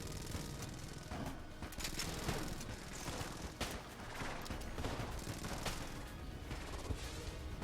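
Rapid, dense weapon fire from the black hole gun in the Enter the Gungeon video game, a continuous loud barrage of overlapping shots and bursts running throughout.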